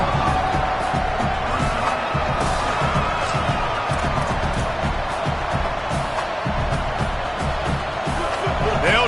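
A stadium crowd in a college football video game, Cal versus Wake Forest, roars and cheers in a continuous loud wash, with a commentator talking over it.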